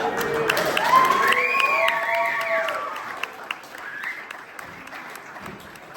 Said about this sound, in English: Cheer for Dave Castro.